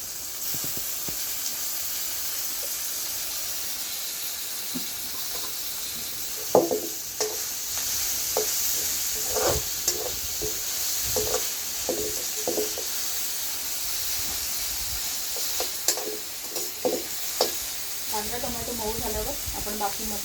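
Chopped tomatoes hit browned onions in a hot pan, bringing a steady sizzling hiss of frying with repeated scraping stir strokes throughout, and faint talk or noises near the end.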